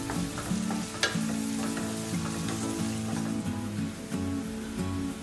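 Fish tomato roast base sautéing in a pan over a medium flame, a steady close sizzle and frying crackle running throughout with occasional stirring scrapes, no talking.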